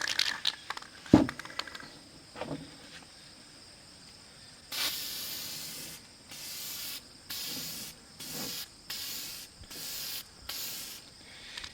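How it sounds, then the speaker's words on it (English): A spray can paints a Canada goose decoy, with a series of short hissing bursts in a steady rhythm, each lasting about a second, close up and fairly quiet, after some faint handling clicks. "pointing the nozzle of the spray can very flat to the decoy"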